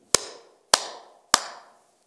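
Three sharp hand claps from a monk during a Buddhist dharma talk, evenly spaced about half a second apart, each ringing briefly in a large hall with no talking.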